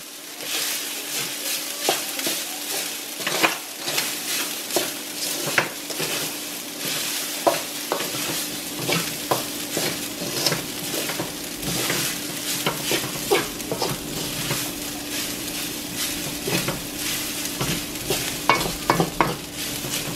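Garlic rice stir-fried in a pan, with a steady sizzle under repeated scraping and stirring strokes of a utensil, close and continuous, no speech.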